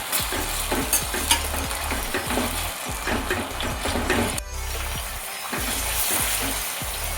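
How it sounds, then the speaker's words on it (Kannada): Onions and tomatoes fry in a pan for a mushroom pulao, with a steady close sizzle and a spatula repeatedly scraping and stirring in a quick rhythm. "ಈಗ ಈರುಳ್ಳಿ ಫ್ರೈ ಆಗಿದೆ, ಟೊಮೊಟೊವನ್ನು ಹಾಕ್ಕೊಳ್ಳೋಣ. ಇದನ್ನು ಚೆನ್ನಾಗಿ ಫ್ರೈ ಮಾಡ್ಕೊಳ್ಳೋಣ."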